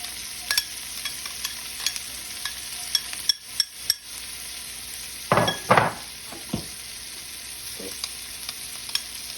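Chopped onion and garlic sizzle softly in bacon fat in a pan, with a few sharp spoon scrapes and stirring clatters standing out from the quiet frying hiss.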